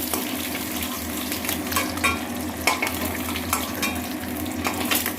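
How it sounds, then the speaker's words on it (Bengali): Egg frying in oil in a pan, a steady close sizzle with stirring and utensil scrapes throughout, no talking. "এখন আমি ডিমটাকে ভেজে নেব।"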